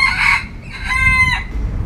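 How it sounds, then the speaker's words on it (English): A rooster crows twice in quick succession, close and loud, with a harmonic-rich call over a low background rumble. "Cock-a-doodle-doo."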